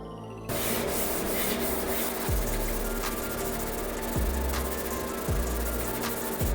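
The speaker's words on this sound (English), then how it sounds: "make sure we're getting rid of all those deeper scratches as we're moving up through the grades of abrasive" Hand sanding across a van body panel with abrasive paper to remove deep scratches: a steady, close, continuous rasping scrub with a few brief low thumps, no talk.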